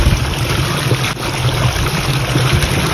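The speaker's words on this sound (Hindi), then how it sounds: "तो यो आने लग रहा पानी भाई" Irrigation water runs from a canal into a farm field channel, a steady, close rushing and gurgling flow that continues without a break and with no talking.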